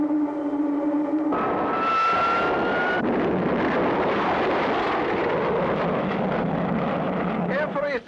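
A rocket in a 1959 cartoon roars steadily as its first stage is about to drop off, a broad rushing engine noise that swells after a brief tonal hum and continues under a speaking voice.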